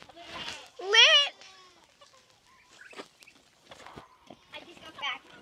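A hen on a farm gives a loud clucking squawk near the start, amid quieter rustling and footsteps, while a person talks to her throughout.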